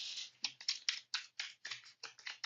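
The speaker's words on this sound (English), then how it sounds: "I'm gonna shuffle her back into my deck" Playing cards from a tabletop card game are shuffled by hand back into a deck, making quiet, close bursts of quick papery flicks in short uneven runs.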